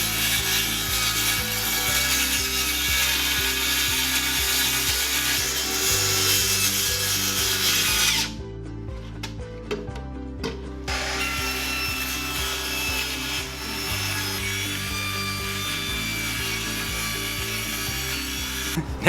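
Hand sawing through wood pieces for a beginner DIY folding desk, steady rhythmic rasping strokes, loud and close, with a short pause midway before sawing resumes; no talk.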